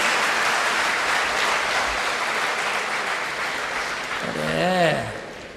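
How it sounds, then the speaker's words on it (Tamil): Audience at a Tamil pattimandram debate speech in Sri Lanka applauding in a steady, dense wash of clapping that fades slightly, with a voice briefly rising over it near the end. "முடிஞ்சா கைத்தட்டுங்க"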